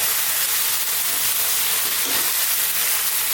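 Sliced red onions frying in a hot pan, a steady broadband sizzle and hiss that holds evenly throughout, close and alone with no talk.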